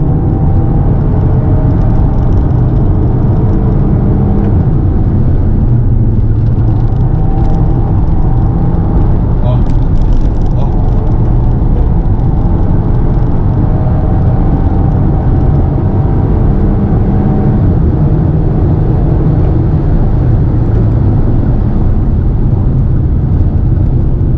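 A 2023 Fiat Pulse Abarth compact SUV engine roars steadily at high revs from inside the vehicle, a loud continuous drone with road noise and faint talk over it.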